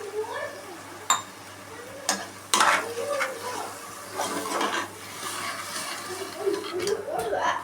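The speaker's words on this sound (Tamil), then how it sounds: "இப்போது ஒரு 100 ml தயிர் ஊற்றிக்கிறோம்" Yogurt is poured into tomatoes frying in a pan for biryani gravy, giving a crackling sizzle broken by stirring scrapes and a few sharp utensil knocks against the pot.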